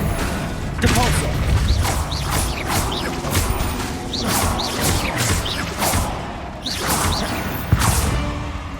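Repeated spell blasts from Depulso and other combat spells in Hogwarts Legacy, sounding as sharp whooshing bursts at roughly one-second intervals over dense, continuous game noise, with a voice calling out spell names.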